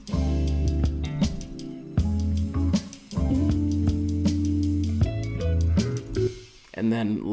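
A hip-hop beat plays in full, a chopped ride cymbal sample riding loosely over thick bass and sampled chords, loud and close, with repeated hits and brief dropouts near the end.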